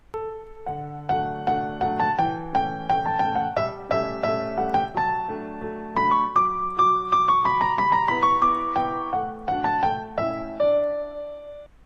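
Piano melody with chords, played alone at moderate volume, notes struck and decaying in a steady flowing rhythm.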